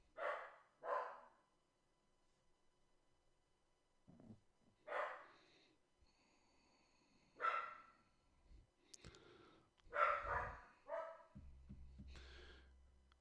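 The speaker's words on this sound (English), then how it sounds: "He's barking." A dog barks indoors in short, separate bursts, a few single and doubled barks spread over several seconds with quiet gaps between them and no one talking.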